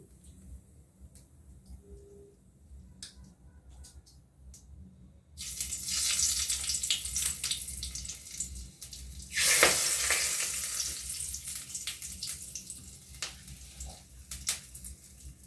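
Cumin seeds and split green chillies hit hot oil for a vegetarian soybean and potato curry. After a quiet start comes a sudden bright sizzle, surging louder midway, then settling into steady crackling frying.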